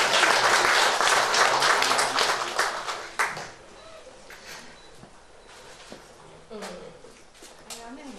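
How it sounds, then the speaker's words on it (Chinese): Audience applause at a charity song launch event, loud sustained clapping for about three seconds that then thins to scattered claps and quieter room noise. "再给他一点热烈的掌声好吗？"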